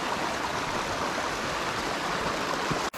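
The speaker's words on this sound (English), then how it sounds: "we're at the point where the Bony Trail now merges with the creek responsible for Sycamore Canyon" Creek water rushes steadily where a hiking trail meets the stream in Sycamore Canyon, a dense, even hiss that holds for about three seconds before cutting off abruptly.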